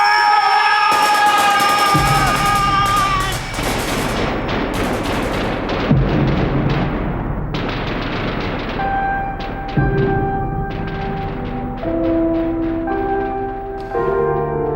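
Artillery and machine gun fire in a war film battle scene, with loud sharp bursts and booms over a ringing tonal music score, sustained and dense throughout.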